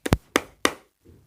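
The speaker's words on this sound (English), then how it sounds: "Alice went timidly up to the door and knocked." Three sharp knocks on a wooden door, evenly spaced and close, standing alone with a faint soft rustle afterward.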